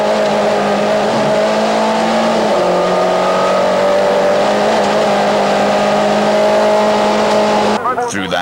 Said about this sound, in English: Race cam action now from the Pepper car, with Roots still piling on the pressure and